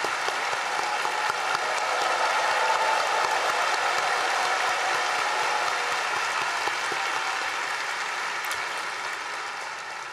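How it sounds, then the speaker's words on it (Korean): A church congregation clapping during an anniversary worship service, a dense, even applause from a large gathering held steady throughout and fading slightly at the end, with no voices over it. "박수 보내드립니다"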